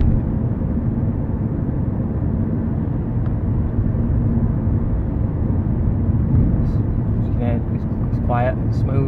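A converted electric VW Beetle cruises at 30 mph in second gear with motors near 4,000 RPM, heard from inside as a steady low road and motor hum with tyre noise and faint creaks, no engine roar.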